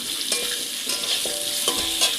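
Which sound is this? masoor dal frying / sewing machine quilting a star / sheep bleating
masoor dal frying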